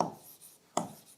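Chalk or marker strokes on a board during a maths lesson on quadrilaterals: two short scratchy writing strokes, close and clear, with no talking.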